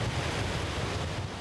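Big waves roll on a stormy ocean in a continuous, dense roar with a gusty, wind-like wash and no pauses.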